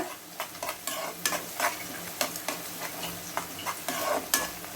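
Steady frying sizzle with rhythmic scraping strokes of a spatula stirring finely chopped sambar onions in a pan, close and clear, no voices.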